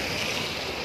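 Heavy overnight rain pours down outdoors as a dense, steady hiss that fills the whole moment at an even level, with no voices.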